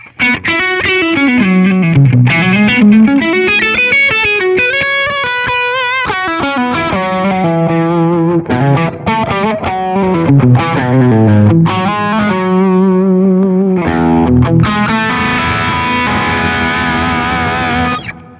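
Heavily overdriven electric guitar through a Minotaur drive pedal on a POD Go Wireless plays a melodic, sustained lead with bends and a gritty, saturated tone, loud and continuous with a held chord at the end.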